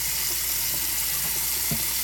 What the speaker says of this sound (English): it starts to squirt the water out until you move it back